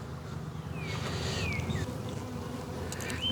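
Honey bees swarm in a dense, continuous drone around an opened hive being split in spring, close and steady throughout.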